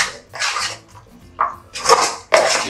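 Spoon scraping and stirring a yogurt-and-masala marinade for mushroom biryani in a bowl, in four distinct bursts of close, fairly loud wet scraping separated by short pauses.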